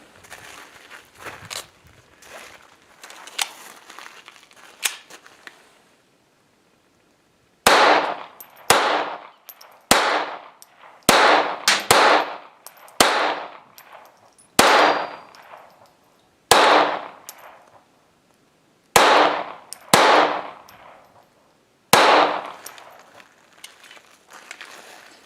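A Smith & Wesson M&P 22 pistol fired outdoors, a series of about a dozen sharp, loud cracks with ringing decay, some in quick pairs, after a stretch of softer handling clicks.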